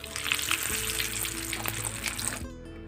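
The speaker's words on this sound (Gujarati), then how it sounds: "અને જે હવે બાકી રહેલી ટિક્કી છે એને પણ આપણે તળી લઈશું." Methi and wheat-flour tikki deep-frying in hot oil give a busy, bubbling sizzle up close, with light clinks from utensils, before the sound cuts off suddenly near the end.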